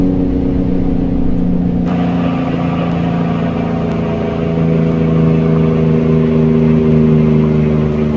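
An International Emeryville truck engine in American Truck Simulator drones steadily at high revs around 1800 RPM, a loud continuous mechanical hum close by with no speech over it.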